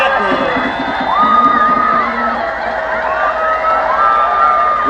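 Crowd at a WVSU versus Glenville college football game cheering and whooping loudly and steadily, a broad roar of many voices with rising shouts throughout, heard close and alone.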